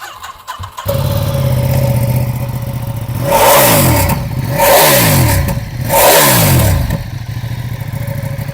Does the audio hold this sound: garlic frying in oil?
no